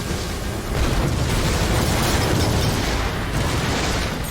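A loud, sustained roaring rumble of explosions and fire in Call of Cthulhu, dense and continuous, swelling slightly partway through without any voices.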